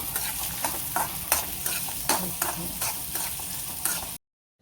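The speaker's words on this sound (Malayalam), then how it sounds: "കുറച്ച് വെളിച്ചെണ്ണ ഒഴിച്ചിട്ട് അതിൽ നമ്മൾ എടുത്തുവച്ച ഒരു സവാള വെളുത്തുള്ളി വറ്റൽമുളക് ഇട്ടുക എന്നിട്ട് ജസ്റ്റ് ഒന്ന് വഴറ്റിയെടുക്കുക" Onion, garlic and dried red chilies sauté in coconut oil with a continuous close sizzle, punctuated by repeated scraping strokes of a spatula stirring the pan, before the sound cuts off abruptly.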